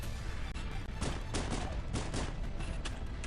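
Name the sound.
gunfire in the video game Halo Combat Evolved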